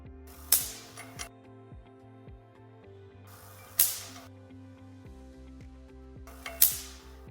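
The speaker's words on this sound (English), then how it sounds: "Here, 2 discs rub against each other" A triboelectric power-station prototype with two discs rubbing together makes a steady mechanical whir with rhythmic ratcheting clicks, broken by three sharp bursts of hissing, crackling noise at regular intervals, close and moderately loud.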